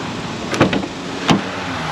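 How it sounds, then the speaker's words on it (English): Door of a 2022 Mustang GT opening: a brief latch click and thunk, then a second short clunk about a second later, close and fairly clear over a steady background hiss. "I'll open the door"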